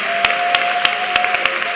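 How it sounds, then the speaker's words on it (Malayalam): A church congregation clapping in praise, loud and close with sharp rhythmic claps over a sustained droning tone, lasting about two seconds. "കൈയടിച്ച് സ്തുതിക്കാവുന്നവരെല്ലാം കൈയടിച്ച് സ്തുതിച്ച്"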